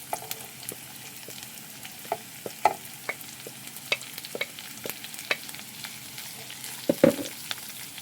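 Carrots and beans stir-frying in a pan with onion, a soft continuous sizzle broken by scattered clicks and scrapes of a spatula, close and moderately quiet.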